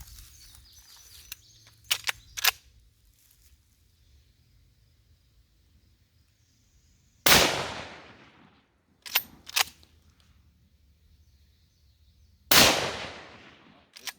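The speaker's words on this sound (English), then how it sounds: "Shooting Remington pointed soft points." Rifle shots with Remington pointed soft point ammunition fired outdoors at about 20 yards using a barrel-mounted peep sight: two loud sharp cracks several seconds apart, each followed by quieter clicks and handling sounds.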